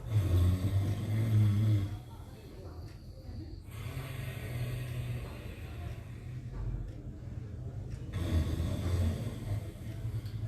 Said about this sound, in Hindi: ये घर्षण युक्त श्वास प्रश्वास जिससे गला साफ रहता है